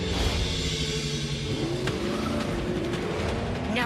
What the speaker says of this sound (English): Good thing this Nissan Rogue is a standard turbocharged engine.